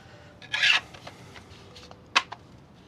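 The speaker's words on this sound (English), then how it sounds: "I started sanding the power lance." Two short scraping rasps of sanding a cosplay prop power lance, a longer stroke then a quick one, close by with quiet pauses.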